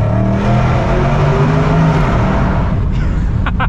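A high-mileage Range Rover Sport SVR roaring through a tunnel, its engine and exhaust loud and booming with a deep rising drone that fills the space, heard from inside the cabin.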